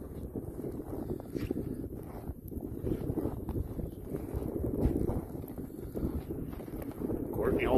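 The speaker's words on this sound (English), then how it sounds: "Oh, she's windy." Wind gusts roar across an open, snowy outdoor spot, a continuous low buffeting rush that hits the microphone, with some faint movement noises and no talking.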